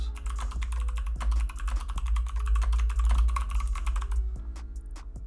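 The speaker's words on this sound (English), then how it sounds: "So we're just going to type this out." Rapid, even keystrokes on a computer keyboard tap close by in a continuous flurry over a low electrical hum, slowing slightly toward the end.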